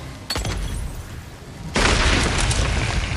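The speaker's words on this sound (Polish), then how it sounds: "O, coś wybuchło." A sudden loud boom bursts in midway through, followed by a sustained crackling, debris-like rumble from a red explosive barrel blowing up in Days Gone on PS4.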